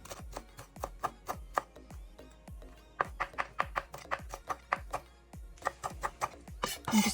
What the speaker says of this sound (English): I'm now chopping up some fresh coriander.